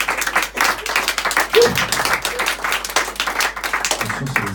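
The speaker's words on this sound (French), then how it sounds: "Point pour Michel, on peut l'applaudir." An audience claps in applause during a French quiz-style stage show, a dense, steady patter of many hands at fairly close range, with a brief voice or cheer rising through it near the middle.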